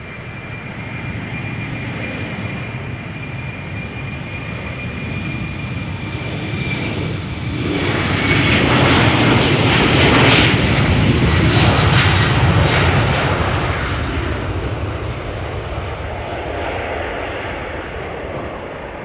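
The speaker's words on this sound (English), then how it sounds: "next up, Embraer 190 KLM flight 1643, destination Florence in Italy." A KLM Embraer 190 jet, 11 years old, passes at Amsterdam Airport with a steady engine roar that swells loudly as it goes by, then slowly eases off, with no talk over it.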